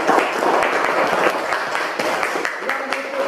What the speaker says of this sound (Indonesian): tepuk tangan untuk kelompok 2 dan kelompok 5